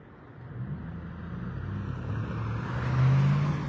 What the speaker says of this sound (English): Driving through with the loud truck over there